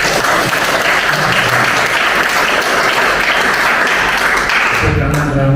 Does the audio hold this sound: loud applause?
yes